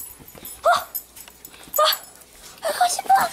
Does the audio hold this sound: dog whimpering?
yes